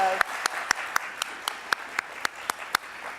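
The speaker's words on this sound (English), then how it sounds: "a round of applause." Sparse clapping from an audience at a poster session, with sharp individual claps repeating at a steady rhythm over faint background noise.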